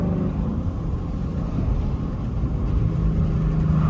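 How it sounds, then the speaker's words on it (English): A car engine pulls hard under acceleration while the car still runs without aftermarket headers, giving a loud, continuous low rumble that stays close and steady for the whole stretch with no talking over it. "finna get this last pull so you can hear my car how it is right before I get headers."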